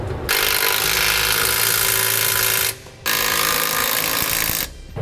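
A power drill bores holes for the upper bracket while SumoSprings helper springs are fitted to a 2016 vehicle, a loud continuous whine running in two long bursts separated by a brief pause, with no talking.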